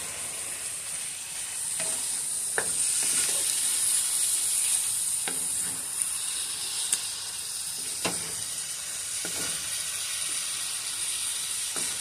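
Beef strips sizzle steadily while frying for stroganoff, a continuous bright hiss with occasional soft pops and stirring clicks, close and fairly loud with no voices.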